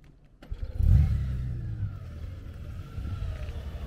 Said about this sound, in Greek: Πω, ρε, πώς τη βάζει τη μηχανή μπροστά